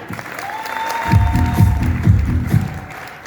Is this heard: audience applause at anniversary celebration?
yes